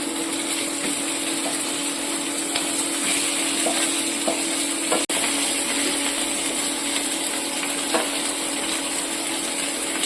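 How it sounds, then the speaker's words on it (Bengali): Pieces of pond fish fry steadily in a pan of hot oil for a fish curry, a dense, even sizzle close by with one sharp click midway and no talking. "মাছগুলো দু সাইড লাল করে ভেজে নিয়েছি।"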